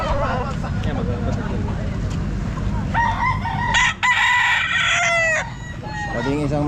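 Roosters crow with rising, drawn-out calls over a busy outdoor crowd murmur at a pet market, with chickens clucking in the background.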